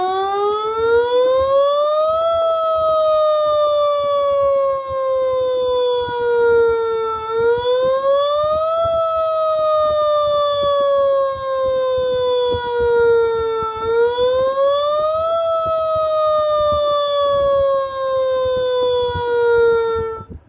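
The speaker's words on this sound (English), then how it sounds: "let's go test some siren tones anyways" A loud homemade electronic siren played through a mini speaker cycles steadily between a lower and higher pitch, rising and falling in slow repeated sweeps with no talking.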